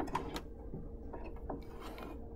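Top stitching along a seam on a sewing machine gives a steady, close mechanical chatter of gears and needle, fairly quiet and continuous.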